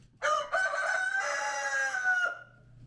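Chickens in a coop, one rooster giving a long, loud crow close by, with softer low clucking underneath before and after.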